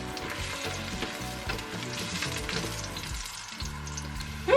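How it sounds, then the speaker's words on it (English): Garlic sautéing in olive oil for a chicken soup, a steady crackling sizzle throughout with occasional stirring scrapes, close and alone with no voices. "I'm gonna start by sauteing some garlic."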